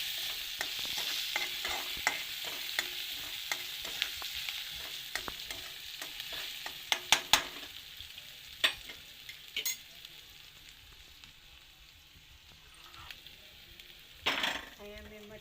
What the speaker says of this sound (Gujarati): કઢી પત્તા નાખવાનું. વઘારને થોડું પાકવા દેવાનું